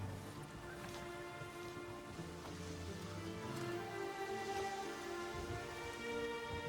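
Steady rain falling in The Witcher 3: Wild Hunt under overcast skies, a continuous even hiss of drops with faint background music tones, no talk over it.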